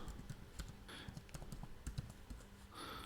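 Typing on a computer keyboard, a quiet run of irregular clicks and taps at close range, heard alone.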